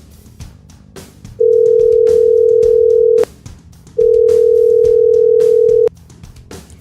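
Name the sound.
telephone ringing effect on sports radio show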